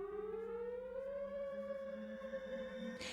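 A recorded Vortex R4 civil defense siren gives a faint, steady wail whose pitch slowly rises and holds for about three seconds, heard alone.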